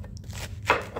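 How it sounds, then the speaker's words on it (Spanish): A knife chopping cabbage for curtido, a few short, crisp cuts on a board, close and fairly quiet. "Vamos a picar el repollo."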